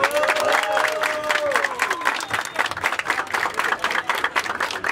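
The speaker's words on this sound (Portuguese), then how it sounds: "Família, palmas pra batalha." A crowd at a rap battle claps and cheers in a lively, uneven burst, with individual claps standing out over a backing beat and some voices mixed in.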